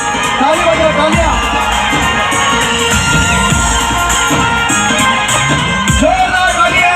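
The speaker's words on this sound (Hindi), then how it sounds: "ताली बजाओ, तालियां।" Crowd at an outdoor political rally cheering and shouting, a loud, continuous mass of voices with scattered whoops and bangs, without distinct clapping standing out.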